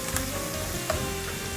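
Blended tomato paste hits hot palm oil and onion in a pot, giving a short, dense, even sizzle that holds steady throughout.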